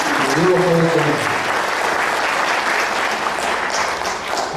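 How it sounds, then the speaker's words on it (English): Audience at a UFO conference applauding steadily for several seconds, dense clapping throughout, with a brief voice speaking over the start. "Let's have a big applause."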